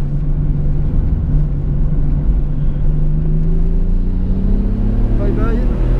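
A fast car runs a warm-up lap on a race track, its engine a deep, close rumble that climbs steadily in pitch as it accelerates, with a voice talking over it.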